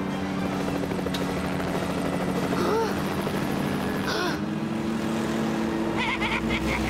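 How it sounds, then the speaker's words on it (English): A biplane propeller spins in the Lego Batman video game, giving a steady droning engine whir that runs throughout, with faint game effects layered on top. "even the skies on the propeller of the plane is spinning"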